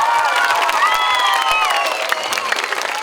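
A concert audience at an anniversary show applauds loudly and continuously, with cheers and excited shouting voices rising above the clapping.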